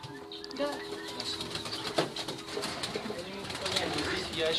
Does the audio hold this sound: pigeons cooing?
yes